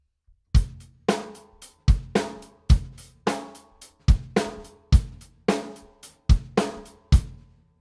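Basic drum groove from a classic rock song with no fills: steady kick and snare backbeat under cymbal, about a dozen evenly spaced hits, close and loud, with no talking.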